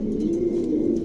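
A caged male pigeon gives a low, continuous throaty coo that carries close and fairly loud, with no talking.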